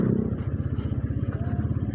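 A nearby automatic scooter fitted with a racing exhaust, ridden on a road in Bogor, putters with a fast, steady low-pitched exhaust pulse and a slight rise in pitch.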